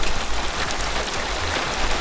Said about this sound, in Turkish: Hala yağmur etkisini sürdürmeye devam ediyor.